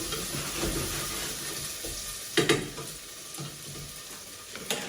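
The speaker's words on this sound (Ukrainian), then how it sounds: "І нехай далі собі смажиться" Vegetables for pumpkin soup sizzle and crackle in a pan at a low, steady level, with a few clinks of a utensil stirring.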